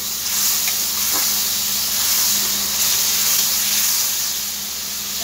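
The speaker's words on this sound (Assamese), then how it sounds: "এতিয়া মই মছলাখিনি ইয়াতে দি দিম या মছলাখিনি ভালদৰে ভাজি থাকিম" Masala spice paste fries in a pan for a fish curry, giving a steady, close hiss and sizzle that stays even throughout, with no talking.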